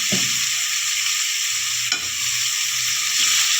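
A tomato and broad bean curry sizzles loudly in hot oil while a spoon scrapes and stirs it in the pan, with steady close frying hiss and a few soft stirring knocks.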